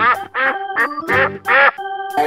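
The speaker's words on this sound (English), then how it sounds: "Duck." A duck quacks repeatedly, six or so loud, close, nasal quacks in quick uneven succession.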